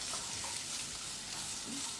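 Italian sweet basil tossed in a hot pan over high heat gives a dense, constant sizzle and hiss with faint stirring scrapes underneath, close and steady throughout the short stretch, with no voices.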